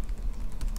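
Rapid typing on a computer keyboard, a dense run of close, light key clicks with a few louder taps, heard alone without speech.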